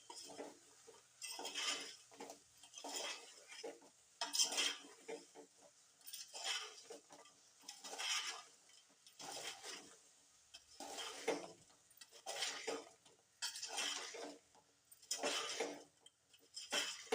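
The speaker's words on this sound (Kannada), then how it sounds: "ಈಗ ಇದನ್ನು ಸವಾನಾಗ ಮಿಕ್ಸ್ ಮಾಡ್ಕೊಂಡ್ರಿ." A ridge gourd stir-fry with jaggery is stirred in a pan, the utensil scraping and clinking against the metal in repeated, rhythmic bursts. The sound is close and moderately loud, with no talking.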